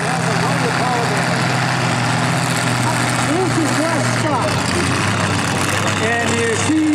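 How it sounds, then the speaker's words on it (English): A supercharged truck engine from a 4WD pulling event at the Vermilion fair runs loud and close, a steady low drone with rising and falling revs, while crowd voices and announcer-like talk sit over it. "This is the supercar engine."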